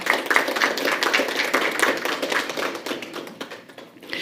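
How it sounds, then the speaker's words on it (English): Applause from a press conference audience for the tourism ministry, a close patter of scattered hand claps that gradually thins and softens toward the end. "Let's give them a round of applause"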